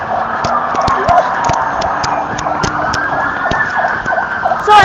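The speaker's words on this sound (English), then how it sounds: "in my back, there is also some police cars as well" Police car sirens wail in repeated rising and falling sweeps at a Hong Kong street protest on July 1, against steady street and traffic noise with sharp intermittent clicks.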